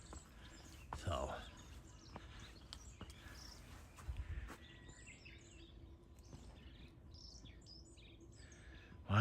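A songbird chirps in rural Japan at dawn, giving short scattered tweets and calls at moderate distance, with faint insect buzzing and a few mechanical clicks and rustles in a quiet outdoor setting.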